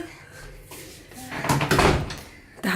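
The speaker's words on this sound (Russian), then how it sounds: "Так, закрой дверь. Закрой дверь." A door in a theater dressing room is pushed shut with a close, solid thud, and people talk nearby.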